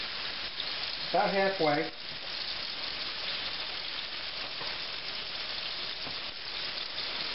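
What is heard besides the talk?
pork chops frying in hot oil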